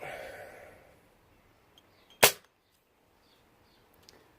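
A single sharp crack from a Webley Hurricane air pistol firing an 8.3-grain RWS Superdome pellet, close and loud in a quiet room, after a brief murmur of talk, followed by a faint distant click.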